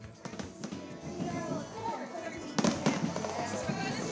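Fireworks crackle and pop continuously at a distance, with louder bursts now and then under a murmuring crowd, at the opening display of the Sinulog Festival.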